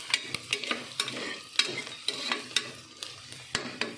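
Onions frying in a pan for kushka, sizzling steadily while a utensil stirs them in regular scraping strokes about twice a second, close and moderately quiet, with no talk.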